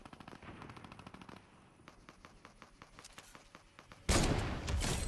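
Rapid bursts of automatic gunfire in Fortnite, a string of sharp repeated shots at moderate distance followed by a louder, closer blast of noise near the end.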